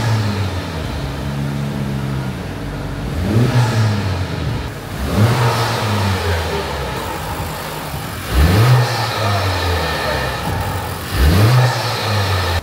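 Engine of a Honda Civic FL5 Type R on stock exhaust revved repeatedly, four sharp rises to a rasping peak then falling back to idle, loud and close with no talk.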